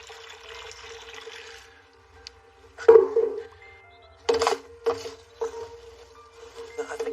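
Water is poured into a garden soil mix to make mud, coming in a few short splashing bursts separated by quiet gaps over a low steady hum.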